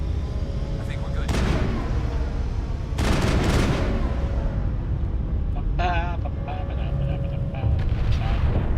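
Rifle gunfire and booming combat effects from the video game Mass Effect crack in a few loud bursts over a constant background rumble, with a brief electronic warble partway through.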